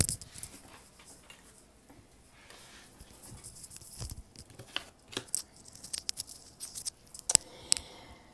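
Tarot cards shuffled by hand at a desk, soft papery riffles and slides building to a few sharper snaps and flicks near the end, close and quiet with no talking.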